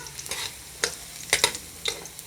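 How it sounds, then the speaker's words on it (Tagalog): Carrots frying in a pan for chicken curry, with soft sizzling broken by a few short scraping stirs, close and fairly quiet with no talking. "Mabilis lang maluto tong maprito tong carrots"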